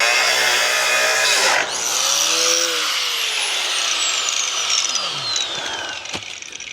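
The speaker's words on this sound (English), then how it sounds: "See, this is gonna be a cutoff wheel right here." A cutoff wheel grinding into a steel shipping container wall, a loud, sustained high-pitched shriek whose pitch sweeps up and down as the disc bites and spins down.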